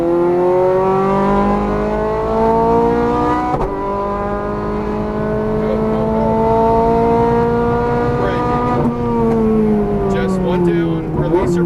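A Ferrari F430 Scuderia V8 revs hard on a race track, its loud engine note climbing through the gears with shifts and throttle changes, close and continuous as an instructor speaks over it.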